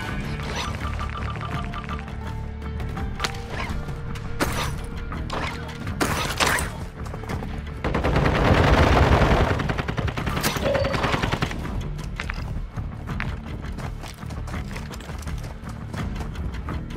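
Rapid automatic gunfire and scattered shots in Call of Duty Modern Warfare II DMZ, loud and sustained with a heavy burst swelling midway, under sparse radio-style game voices.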